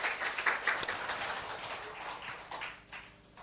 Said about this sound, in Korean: 우리 하나님 박수 올려드려요